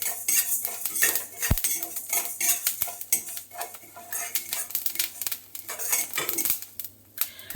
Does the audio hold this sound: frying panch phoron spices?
yes